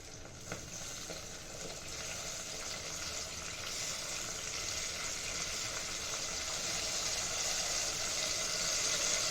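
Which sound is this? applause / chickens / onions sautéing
onions sautéing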